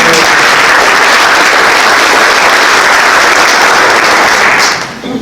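A large audience at a city forecast breakfast applauds loudly and continuously, a dense roar of clapping that tapers off near the end.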